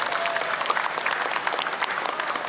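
An audience at a live concert applauds steadily, the dense clapping holding at an even, fairly loud level for the whole stretch with a faint crowd murmur beneath.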